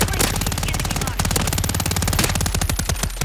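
Sustained automatic gunfire in a video game as a whole magazine is emptied, a loud, rapid, continuous burst of shots with a brief stutter midway before the firing resumes.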